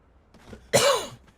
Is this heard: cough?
yes